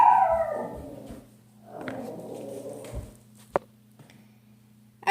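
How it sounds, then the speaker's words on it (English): A startled dog howls and whimpers with rising, wavering cries, then a short sharp yelp, close by and alone over a steady low hum. "sorry for the startling dog."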